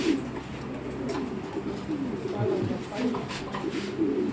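A big red checker pair of racing pigeons coos softly in low, repeated murmurs, close by amid a dull background hum.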